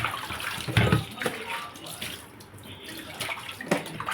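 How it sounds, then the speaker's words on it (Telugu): Fish are rinsed under steadily running tap water, a close and continuous splashing hiss with a few brief louder sloshes. "కడిగేస్తున్నాను ఎక్కువ సేపలు కడిగేస్తాను"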